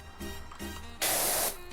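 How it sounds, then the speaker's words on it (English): A pressure washer nozzle fires a loud, close burst of hissing spray for about half a second in the video game PowerWash Simulator 2, preceded by two brief softer bursts. "it's a little difficult to spray it directly"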